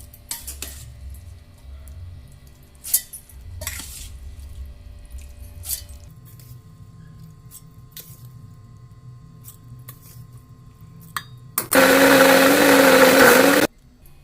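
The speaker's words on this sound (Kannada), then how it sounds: "ಮಿಕ್ಸರ್ದಾಗ ರುಬ್ತೀನಿ, ತೋರಿಸ್ತೇನೆ ನೋಡಿ." A kitchen mixer grinder whirs loudly for about two seconds as it grinds soaked rice into batter for onion dosa, following quieter clinks and handling noises of the jar being loaded.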